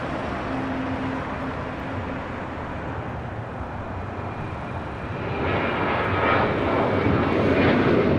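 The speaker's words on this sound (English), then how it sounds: "This is Alaska Airlines 1348 taking off to Puerto Vallarta" An Alaska Airlines jet takes off from Los Angeles International Airport, its engine roar steady at first, then swelling louder and closer over the last few seconds.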